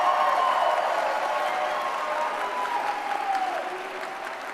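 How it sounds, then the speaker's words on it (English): A large crowd at a CPAC political conference applauds for Trump, a dense, steady roar of clapping with some cheering that holds for several seconds and eases off slightly at the end. "you can clap for the president"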